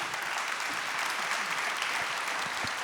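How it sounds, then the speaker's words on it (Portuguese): A church congregation applauds after the reading of the word of God at a Mass, a steady, moderately distant patter of many hands clapping throughout. "Vamos aplaudir a palavra de Deus"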